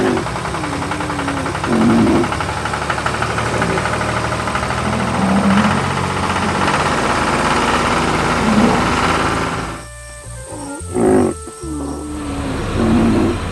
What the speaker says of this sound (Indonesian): Traktor dan trailer sedang bekerja keras mengangkut tanaman segar